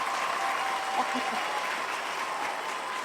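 Steady, dense applause from an audience, filling the clip evenly at moderate level with faint voices mixed in underneath.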